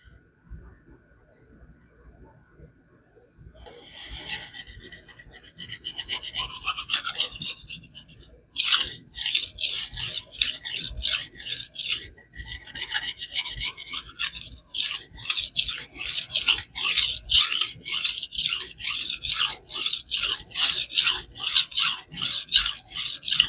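A kitchen knife drawn again and again across a THLEITE whetstone while raising a burr, giving steady rhythmic rasping strokes, close and fairly loud, with short pauses between runs and no talk.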